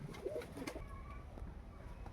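Kaldom giribaj madrasi pigeons give a few soft, faint coos near the start, then low background hum follows, with no clear talk.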